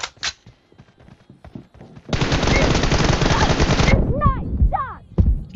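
Loud, rapid automatic gunfire from an online first-person shooter video game rips out in one sustained burst of about two seconds, followed by a few sharper single shots and metallic whistling effects.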